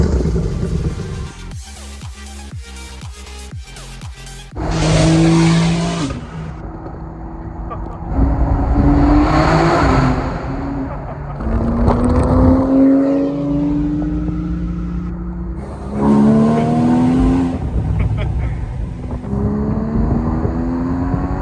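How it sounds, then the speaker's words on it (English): Porsche 991 GT3 RS iPE engine roaring loudly while driving, rising and falling revs in several bursts close by, with people talking between and over the pulls. "the GT3 RS is so loud"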